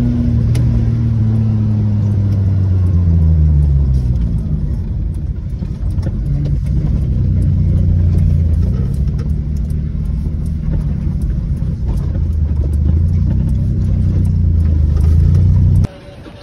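A car engine revs loudly and steadily while the car is driven, its pitch rising and falling in waves under a continuous close rumble, then cutting off abruptly near the end.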